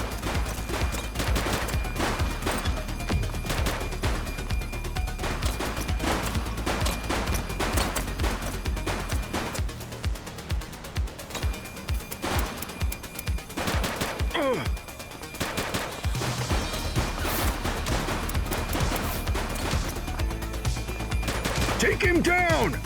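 Rapid bursts of automatic gunfire and single shots in the police game The Precinct, dense and loud throughout with shouted voices mixed in and a brief lull midway before firing resumes.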